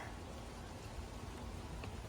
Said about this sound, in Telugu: ఓ వావ్ వర్షం పడుతుంది